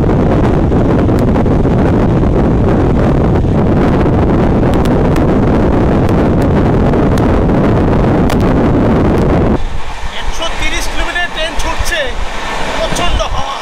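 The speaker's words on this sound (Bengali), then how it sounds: "প্রচণ্ড হাওয়া।" Strong wind roars loudly and continuously past a moving train, a dense rushing blast that suddenly thins into a lighter, fluttering whoosh for the last few seconds.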